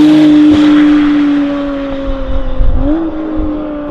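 A McLaren Artura V6 hybrid fitted with a Novitec exhaust pulls hard and close, its engine note holding steady and then rising again as the revs build after a shift, loud and rumbling.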